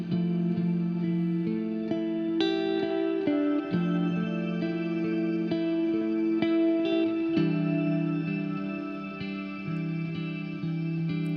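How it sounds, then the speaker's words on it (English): Electric guitar played through a Strymon reverb pedal set to emulate strings: sustained, layered diatonic chords with long washy reverb tails, steady and moderately loud, with no talking. "Using like a little reverb, Strymon reverb to kind of emulate the strings."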